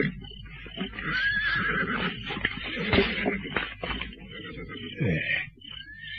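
A horse neighs in a radio drama, a loud, drawn-out whinny up close with rough, shaking tones, followed by a second shorter call near the end.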